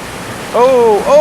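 River water flowing beneath wooden floorboards makes a steady, close broadband rush through the whole moment, with two brief tonal, voice-like sounds rising over it.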